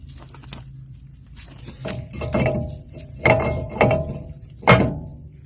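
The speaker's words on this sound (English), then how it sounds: "Grab a lug nut. Throw it on here, that'll hold it in place." Lug nut spun by hand onto the wheel hub of a 2WD Dodge Ram 1500 truck, with brake rotor fitted, giving light metallic clinks and a few sharper taps, close and fairly quiet in a shop.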